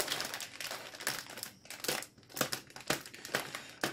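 Sticker label being picked and peeled off plastic lettuce packaging, giving crinkly, crackling bursts of plastic at close range, fairly quiet and irregular, with no voices.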